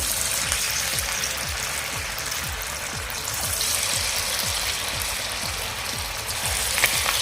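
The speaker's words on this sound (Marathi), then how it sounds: "आता आपलं तेल गरम झालेलं आहे आता मी यामध्ये भजी सोडते" Small chana dal bhaji fritters fry in hot oil, giving a steady close crackle and hiss with a regular bubbling pulse throughout, and no talk.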